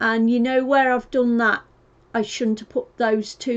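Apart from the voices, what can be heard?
No everyday noise stands out behind the speech.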